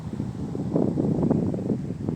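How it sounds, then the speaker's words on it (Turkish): Wind blows outdoors beside a pond at night, a soft low rushing gust buffeting the microphone in uneven surges, with nothing else audible. "rüzgarın sesini duyabiliyorsunuz"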